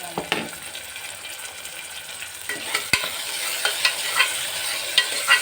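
Tomatoes added to a pan of chicken curry sizzle and fry while a spoon scrapes and stirs, giving a soft, steady hiss broken by faint clinks and scrapes, with no one talking.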